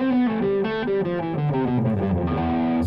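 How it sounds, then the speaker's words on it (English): Electric guitar played on the bridge humbucker through a low-gain, high-wattage amp, a short run of clean-ish sustained notes stepping through a melodic line, close and steady with no talking. "So right now I'm going to use the humbucker here in the bridge,"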